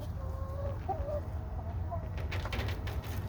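Several short clucks from chickens over a steady low rumble, soft and somewhat distant, with brief scratchy noises toward the end.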